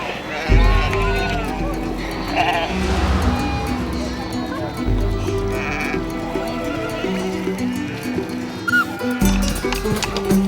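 Sheep in an Aymara herders' flock bleat repeatedly in the Peruvian highlands near Titicaca, several close calls scattered over narration and animal movement.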